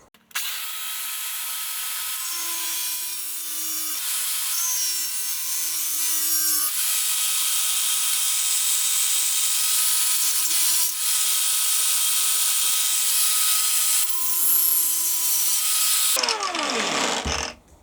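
A wooden piece being cut for assembly with a cordless hybrid chainsaw makes a loud, continuous buzzing whine held almost unbroken for about sixteen seconds, with slight load changes, before the motor spins down.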